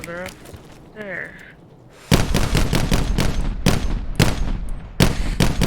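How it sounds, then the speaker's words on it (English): Video game gunfire bursts out loud and close in rapid automatic volleys after an opening stretch of voice chatter, continuing in heavy repeated bursts to the end. "Stop that shooting now."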